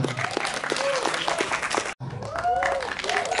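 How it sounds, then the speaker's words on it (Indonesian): Applause for a film's producer at a movie trailer and poster launch event, with a crowd clapping steadily and fairly loudly, briefly cut off midway, while an announcer's voice carries over it. "kita sambut dan beri tepuk tangan yang paling meriah untuk produser dari Glenn Friendly The Movie, Daniel Mananta."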